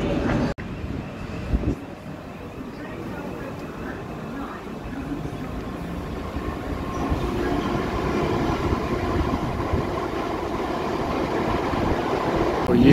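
A train pulls into a London station on the way to Wimbledon, a broad low rumble and rail noise building steadily and growing louder as it arrives, with station ambience around it.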